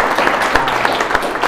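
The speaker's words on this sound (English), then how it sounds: "Can we get a round of applause for Terry?" A tech meetup audience claps for a lightning talk speaker, brief steady applause from a small room, fairly close and continuous.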